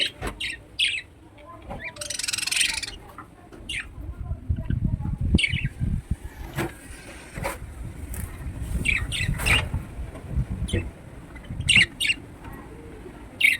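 Pet birds kept in a cage after a cyclone storm give repeated short chirps and squawks, close by, amid rustling and handling noises.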